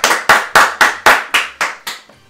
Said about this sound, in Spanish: Alfredo Pérez, un aplauso.